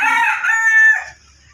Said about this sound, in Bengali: এই পাশে মুরগির ঘর, এখানে অনেকগুলো মুরগি আছে